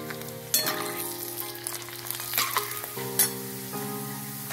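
Chivada ingredients such as potato pieces deep-frying in hot oil, a continuous crackling sizzle with occasional sharper spatters and utensil knocks, over a steady background tone.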